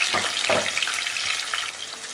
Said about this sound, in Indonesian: Kemudian kita akan goreng.